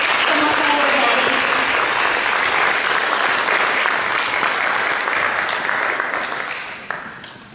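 A school board meeting audience gives sustained clapping for an honored student, loud and dense at first, then slowly thinning and fading toward the end.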